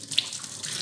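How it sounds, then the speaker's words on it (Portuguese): A kitchen tap runs in a brief, close, steady hiss of flowing water, with no voices over it. "Deixa eu ligar aqui a torneira."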